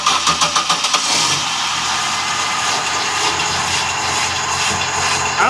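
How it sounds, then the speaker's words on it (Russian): Car engine idling with a scraping belt idler roller, a steady broad mechanical hum and rasp after a few quick rhythmic pulses at the start, close and continuous throughout. "там где ремень, там ролик черкает"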